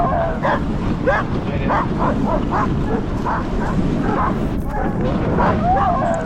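Husky sled dogs in a forest barking and yipping repeatedly, many short overlapping barks over a steady background rumble, continuing throughout with a few higher whining calls near the end.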